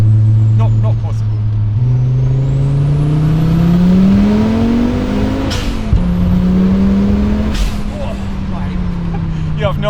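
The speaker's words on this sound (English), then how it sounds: "The turbo on this is louder than the exhaust." Audi Sport Quattro with a 500 hp turbocharged engine pulls hard from inside the cabin, rising through the revs with a loud, droning turbo and engine note and a couple of brief gear-change breaks.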